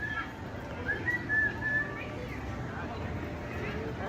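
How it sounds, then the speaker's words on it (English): A faint whistled note rises briefly over a steady wash of background crowd noise and indistinct voices outdoors. "somebody was whistling"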